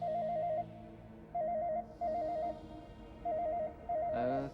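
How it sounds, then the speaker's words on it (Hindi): A telephone rings in a quiet indoor room, five short bursts of electronic ringing spaced evenly and fairly soft, then a sudden louder tone at the very end. "किसका फोन आ गया अब?"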